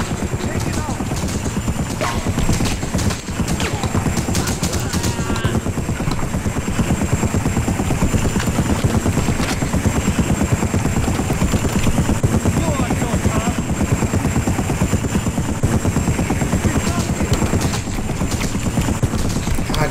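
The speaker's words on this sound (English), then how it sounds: "Even though this helicopter has zero life left," Helicopter in The Punisher video game, a steady loud whirring drone under continuous bursts of gunfire and battle noise, with a player talking over the action.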